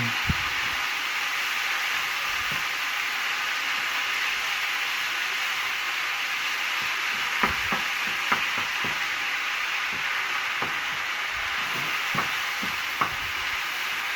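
Casserole steak frying in a pot gives a steady, even sizzle throughout, with scattered light clicks and scrapes of stirring near the end and no talking.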